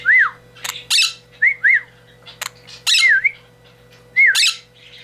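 A canary-winged parakeet gives loud, close squawks and rising whistled calls in repeated bursts, with short quiet gaps between them over a faint steady hum.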